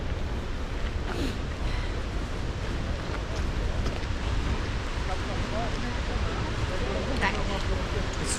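Strong, hurricane-like wind near an Icelandic waterfall roars loudly and steadily, buffeting the microphone with a dense, continuous rush from start to end.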